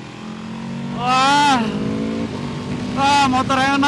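A 2023 Aprilia RSV4 superbike engine rises in two loud revving bursts with climbing pitch during a test ride, a steady idle-like drone between them, over road noise.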